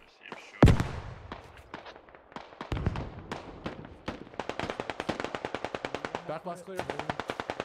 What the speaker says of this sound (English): So I'm assuming that's a Carl Gustav being shot.